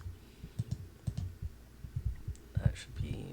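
Soft, quick computer keyboard clicks sound close by in short irregular bursts, light taps scattered through a quiet room with faint low thumps underneath.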